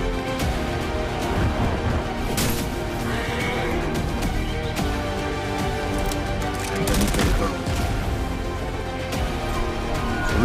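Gunfire rattles through a dramatic action trailer for the film Empuraan, bursts of rapid shots and sharp cracks layered over a dense, booming soundtrack mix with intermittent loud hits.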